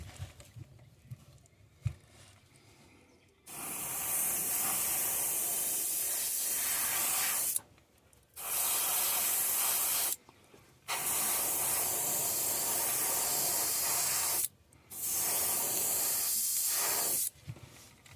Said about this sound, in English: It kind of wants to spit and sputter a little.